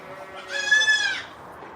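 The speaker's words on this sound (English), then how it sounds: "That sounds like a peacock rather than a goat" A peacock calls on a farm with a single loud, drawn-out nasal cry that rises and then falls over about a second, with faint background sound before and after it.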